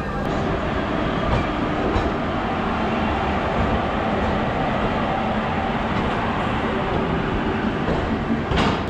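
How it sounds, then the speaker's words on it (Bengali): An Indian passenger train pulls out of the station on its way to Ujjain Junction, a steady loud rumble with rolling wheel clatter filling the whole stretch, close and continuous. "তো এখন আমার ট্রেন ছেড়ে দিল"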